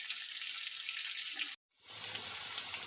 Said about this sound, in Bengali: চলো আলুটা ভেজে নিই লাল লাল করে